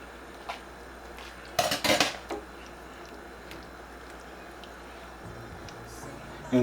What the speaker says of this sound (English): we want to stir this until we don't see any more sour cream